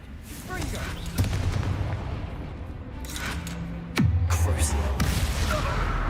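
Confringo fire spells are cast in Hogwarts Legacy amid combat, two sharp blasts with descending whooshing tails over a rumbling low battle bed, with game voices speaking in between.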